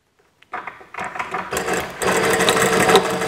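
A sewing machine stitches a square on a pocket facing for drawstring shorts, starting after a brief quiet moment, then running in steady bursts that grow louder and denser toward the end, close by with no talk.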